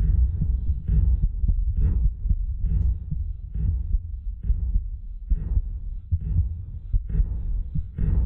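A heavy, throbbing heartbeat from the video game The Mimic pounds steadily and loudly, its low thuds repeating about once a second with no talking over it.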